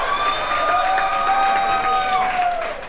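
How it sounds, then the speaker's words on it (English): A hometown crowd roars and cheers steadily at an NXT women's wrestling match, a loud, dense wash of voices with a shrill whistle-like tone running through it. "The hometown crowd of Rok-C here, very evident."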